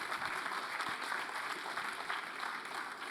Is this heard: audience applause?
yes